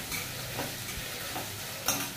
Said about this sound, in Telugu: ఇప్పుడైతే పచ్చిమిర్చి ఇంకా ఆనియన్స్ని బాగా పచ్చిదనం పోయే వరకు వేయించుకుంటున్నానండి.